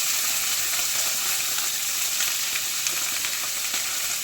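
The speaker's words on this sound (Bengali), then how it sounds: "সবজিগুলো প্রথমে ফ্রাই প্যানে ভেজে নেব।" Onion, carrot, beans and peas sizzle steadily in a frying pan, a dense continuous crackle with faint stirring, close up and uninterrupted, no voices.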